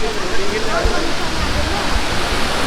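Krang Suri Waterfall in Meghalaya, a loud, dense and continuous roar of falling water heard close by, with a voice faintly audible under the rush.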